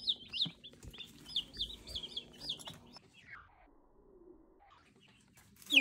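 Baby meat chicks in a basement brooder peeping in quick high chirps, a cluster of calls early then quieter, sparse sounds, faint and close in a still room.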